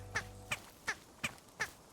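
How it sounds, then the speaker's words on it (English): Five short bird calls from the game Wanderstop sound alone and close, evenly spaced about every third of a second, each a quick quack-like chirp over a quiet background. "That bird's wandering back."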